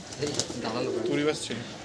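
A racing pigeon coos in short throaty phrases at close range, mixed with someone speaking over it during the brief moment.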